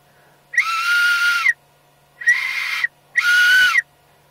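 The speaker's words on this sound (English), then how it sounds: "let's test the whistle" Three shrill blasts from a 7-in-1 multi-tool whistle, close and loud, each about a second long with short pauses between.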